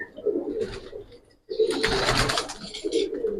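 A Giribaz pigeon, a female of an old breed line, coos in a loft. Soft, low, repeated cooing comes in two bursts, close by, with a short silence between them.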